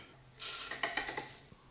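A Forte espresso grinder fitted with Ditting burrs grinds coffee beans in a short mechanical whir with a few clicking rattles, close and fairly quiet, ending after about a second.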